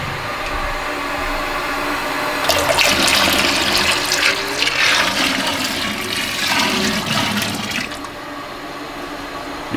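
Liquid soap ingredients being poured into a mixing batch at about 117 degrees during small-scale production, a steady rushing liquid pour that swells loudly for several seconds in the middle, with no talk.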